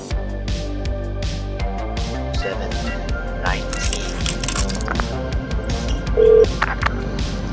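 A telephone number dialed in a game, heard as a run of short electronic keypad tones in quick succession over a humming, layered background.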